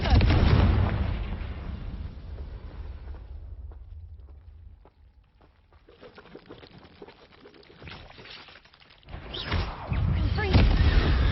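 Confringo blasting spells exploding in Hogwarts Legacy, heavy booming blasts at the start that fade into a quieter rumbling lull, then another loud burst of explosive noise near the end, with a voice briefly heard.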